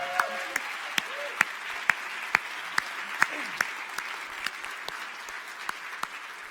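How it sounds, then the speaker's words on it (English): Audience applause at a science communication competition final in the UK, steady clapping from a sizable crowd, with sharper individual claps standing out throughout. "So one more round of applause,"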